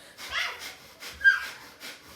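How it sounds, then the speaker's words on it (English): Kapalabhati yoga breathing, with a short series of sharp, forceful nasal exhales spaced unevenly, close and fairly soft, with no talking. "we're going to breathe Kapalabhati for 30 seconds"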